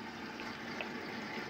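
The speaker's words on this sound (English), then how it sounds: "I got the hot water on." Hot water running from a kitchen tap in a small woodland farmhouse, a steady, faint rushing stream with no talking.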